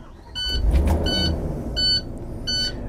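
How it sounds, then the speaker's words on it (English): An International school bus engine starts up as repeated warning beeps sound in short bursts over a low rumbling crank and idle, fairly close. "So now you just start the bus back up"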